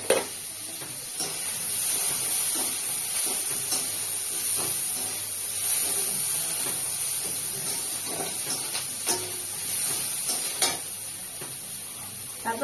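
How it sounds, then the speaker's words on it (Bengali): Onions fry in a pan with a steady, close sizzle, broken by occasional stirring scrapes and clicks, with no talking. "পেঁয়াজটাকে ভালো করে একটু ভেজে নেব।"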